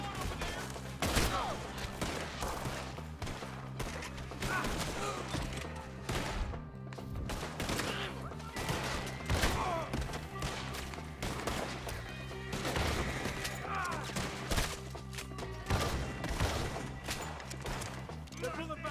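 A gunfight in the Western game Red Dead Redemption 2 on Xbox One: many rapid gunshot cracks, near and far, with scattered impacts and thuds, running steadily throughout while voices talk at times.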